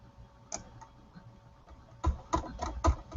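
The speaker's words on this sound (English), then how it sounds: "Oh, they're typing again, James." Someone types on a computer keyboard. A few soft isolated clicks come first, then a quick burst of louder, closer keystrokes near the end.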